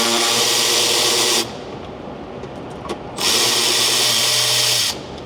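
A power drill removing fasteners on a 2023 Ford Super Duty front valance, two loud bursts of whirring motor with a quiet pause between them, close up.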